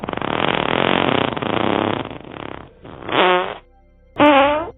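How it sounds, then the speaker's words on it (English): A loud cartoonish fart sound effect: one long sputtering blast, then two shorter rasping bursts with brief gaps between them, close and alone. "A loud fart slips out from him"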